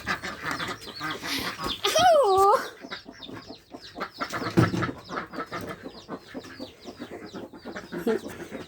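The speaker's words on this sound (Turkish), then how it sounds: "akşam gürke koyduğumuz tavuklara, civcivlere, tavuğa civcivlere bakmaya gidiyoruz" Chickens and chicks cluck and squawk around a person talking, with a brief rising bird call early on and scattered clucks throughout at close range.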